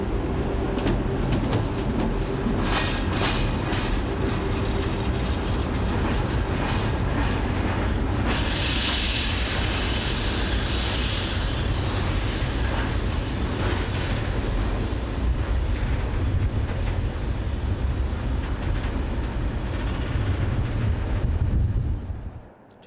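A freight train passes straight through a station without stopping, a steady, loud rolling rumble with rail clatter lasting throughout, with a brief brighter hiss midway, before fading out at the end.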